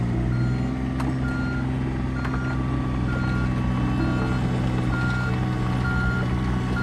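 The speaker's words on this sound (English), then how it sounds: "He's on his beloved digger." A digger's reversing alarm sends out regular, evenly spaced beeps over a loud, steady engine rumble close by, continuing throughout.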